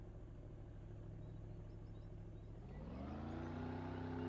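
A boat's engine on a lake hums steadily, then rises into a louder, throatier rev as the throttle opens near the end, heard close and continuous without talk.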